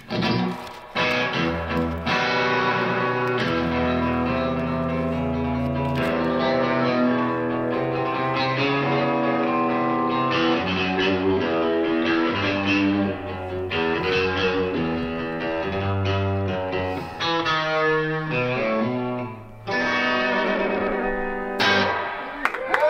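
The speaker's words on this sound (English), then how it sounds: "Can we hear the reverb?" An electric guitar runs through a TC Electronic reverb pedal, playing sustained distorted chords and notes whose washy tails ring on and blur together. The sound stays loud and continuous for the whole stretch, with brief gaps between phrases.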